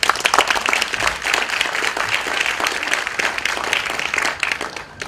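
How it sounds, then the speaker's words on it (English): Audience at a Hollywood Korean leaders network launch gives a loud, continuous round of applause, dense clapping that holds steady and then tapers off at the end. "Give him a big applause"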